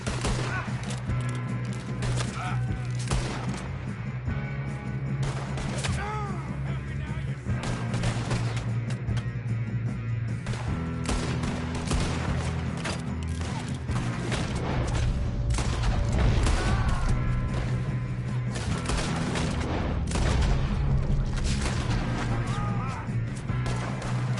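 Gunfire in the Red Dead Redemption 2 game, with repeated sharp shots and crashes scattered through a loud, continuous backdrop of music and action noise for the whole stretch.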